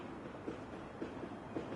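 A train rolling along rails in the Final Fantasy VII Remake video game gives a faint, steady rumble with soft rhythmic clacks about every half second.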